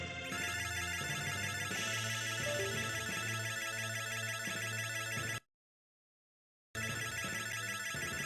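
A video game's Demon Sound plays as a bright, ringing, bell-like electronic chime, continuous and layered, broken by a sudden gap of silence before resuming, with no voices over it.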